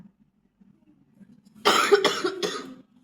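A person imitates a harsh, whooping cough: a burst of three loud, raspy hacking coughs close to the mic after a quiet lead-in.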